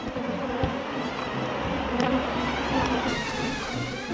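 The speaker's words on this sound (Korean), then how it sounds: "적의 공격으로 착각한 꿀벌떼가 밖으로 무섭게 쏟아져 나옵니다" A dense honeybee swarm pours out of a hive collector, giving a continuous, agitated buzzing drone from many bees close by, with no voices.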